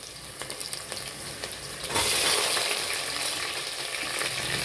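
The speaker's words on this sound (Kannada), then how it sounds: "ಈರುಳ್ಳಿ ನೀಟಾಗಿ ಫ್ರೈ ಮಾಡ್ಕೊಬೇಕು. ಈಗ ನೋಡಿ ಫ್ರೈ ಮಾಡ್ಕೊತಾ ಇದ್ದೀನಿ." Onions fry in a pan with a steady close sizzle. Faint stirring clicks come early, then the sizzle swells louder about halfway through as more goes into the pan.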